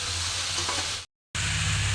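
Pumpkin and pea curry stirred in a frying pan (kadai) with salt and turmeric, giving a steady close sizzle with a brief cut to silence before the sizzle resumes, no talk.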